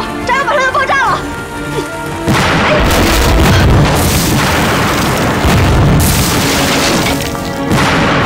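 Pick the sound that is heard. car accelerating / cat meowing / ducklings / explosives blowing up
explosives blowing up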